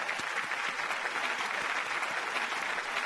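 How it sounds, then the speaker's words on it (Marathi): Studio audience applause for two competing teams on a Marathi TV singing show, a dense steady wash of many clapping hands, even and sustained throughout with no voices over it. "या 2 टीमसाठी एकदा जोरदार टाळ्या होऊन जाऊ द्यात"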